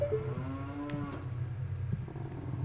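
Cow mooing inside Jabu-Jabu's Belly in the video game The Legend of Zelda: Ocarina of Time Master Quest, one low drawn-out moo over a steady droning game soundtrack.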